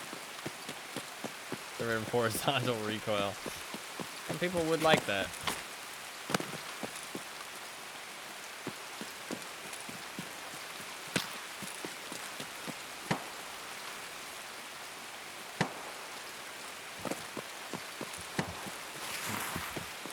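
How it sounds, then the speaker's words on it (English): Loud, continuous rain in the video game Escape from Tarkov, a dense patter with scattered sharper drops and taps, joined briefly near the start by a person speaking. "Tarkov rain is very loud."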